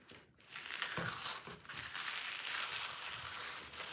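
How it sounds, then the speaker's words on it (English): Fabric peeled slowly away from a polythene sheet over a drying watercolour, giving a continuous close crinkling and crackling with a few sharper tearing pulls, no voices. "I'm going to peel away the fabric from the polythene"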